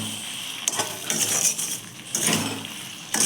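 Sweet-sour plum (kul) pickle being stirred in a pan, a utensil scraping and clinking against the metal in a few separate bursts, fairly close and moderately loud with no talking.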